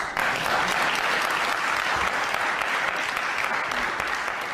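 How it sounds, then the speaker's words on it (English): Steady, dense audience applause fills a debate hall after an Islam debate between two speakers, a continuous wash of many hands clapping at even loudness with no talking over it. "Please give both speakers a round of applause."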